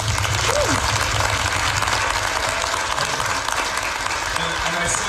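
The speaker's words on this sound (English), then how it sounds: "I just want to give you a round of applause." Steady applause rolls through a women's town hall audience in Iowa City, Iowa, a continuous wash of clapping with a few brief voices under it.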